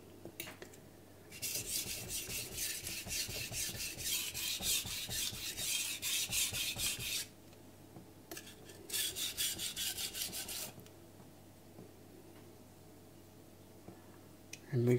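Knife blade sharpened on a Miyagoshi whetstone, rapid rhythmic rasping strokes in two bursts, a long run then a shorter one, close and distinct with quiet pauses between.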